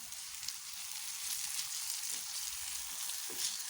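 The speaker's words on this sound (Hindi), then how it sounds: "तो अब मैं इसके अंदर ऐड कर रही हूँ टमाटर।" Chopped tomato sizzles in hot oil with onions for an Afghani omelette, giving a steady, quiet frying hiss that crackles gently throughout with no talking.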